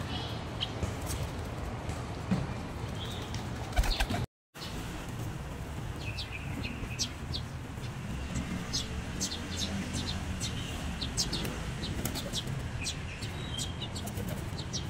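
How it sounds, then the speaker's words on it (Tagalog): Flock of pigeons being fed rice in a Taiwan park, with continuous soft cooing, clucking chirps and occasional wing flutters at close range over a steady outdoor background, broken by a brief dropout. "tingnan nyo yung mga kalapati na pinapakain namin araw-araw ng alaga ko"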